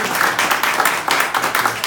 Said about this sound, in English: Let's give John a round of applause too for our music today.